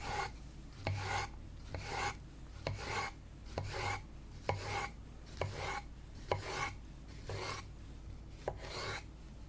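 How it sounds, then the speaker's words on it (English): Steady, rhythmic soft slicing strokes repeat about once per second, each a short wet rasp of a knife cutting through soft fruit, close up with no talking. "I'm slicing 3 bananas at once."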